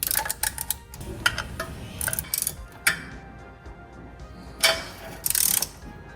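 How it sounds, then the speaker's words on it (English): Bolts on a Porsche Boxster thermostat housing being tightened by hand in small steps, giving sharp intermittent ratcheting clicks in short bursts separated by pauses, close and fairly loud. "So now we're incrementally tightening so that the gasket gets smushed"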